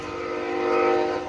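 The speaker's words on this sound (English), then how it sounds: "And don't mind the train." A train sounds its horn in a loud, sustained chord that swells slightly and holds steady for over a second, fairly close by and with no talking over it.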